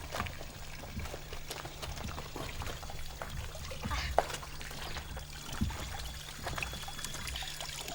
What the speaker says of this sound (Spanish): Mira, una fuente.